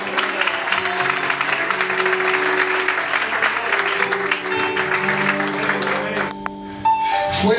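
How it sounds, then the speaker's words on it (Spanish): A church congregation at a spiritual retreat applauds loudly and continuously, a dense wash of clapping that carries over sustained music tones and a voice before cutting off briefly near the end and resuming. "Aplaude a tu Dios que vive."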